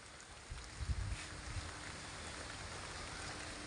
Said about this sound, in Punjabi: ਇੱਥੇ ਲਓ ਜੀ ਮੀਂਹ ਫੇਰ ਆ ਗਿਆ